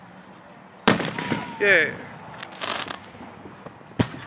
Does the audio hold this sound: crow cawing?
no